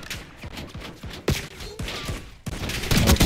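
LR 7.62 sniper rifle firing in a video game, a few sharp, loud shots spaced apart with game ambience and faint impacts between them, no talking.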